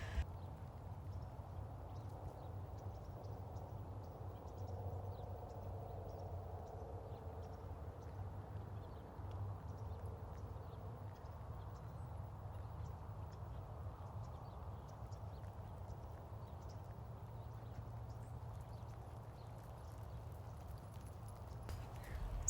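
A horse named Happy, a Standardbred, trots under a rider over a course with poles on a cold fall morning, giving a steady, low, continuous hoof rhythm at moderate distance with no talk.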